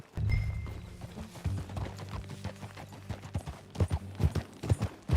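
Horse hooves clip-clop on the ground in a Western open-world game, starting soft and building into a loud, close, rhythmic gallop as riders set off, with a low rumble underneath.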